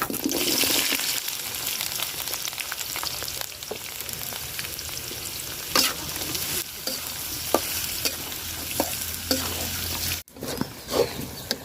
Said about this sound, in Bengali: পেঁয়াজটা দেখেন আমি লাল লাল করে ভাজা নিচ্ছি